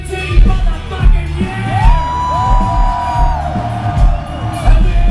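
A concert crowd at a show in the Starland Ballroom roars and cheers, with loud whoops and yells rising over a dense, steady wall of crowd noise.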